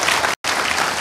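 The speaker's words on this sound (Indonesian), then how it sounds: "Tepuk tangan buat Tuhan Yesus" An audience at a church service applauds in a dense, steady wash of clapping, broken by a very short gap of silence in the middle.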